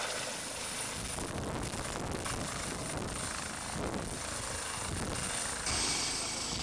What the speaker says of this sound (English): A helicopter arrives.